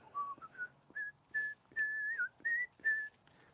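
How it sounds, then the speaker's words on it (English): A person whistles a short melody in clear, sliding notes with brief pauses between phrases, close and fairly quiet, with no talking. "Are you just whistling the..."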